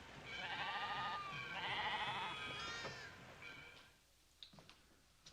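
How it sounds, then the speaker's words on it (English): Sheep bleat in two long wavering calls close by, followed by a shorter cry, then fainter scattered noises trail off in a quieter background. "let's go watch them slaughter the sheep"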